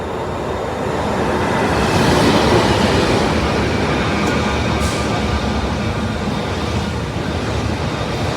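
A Korean Mugunghwa passenger train pulls into a station, rumbling steadily nearby, wheels clattering on the rails with a faint squeal as it moves slowly through.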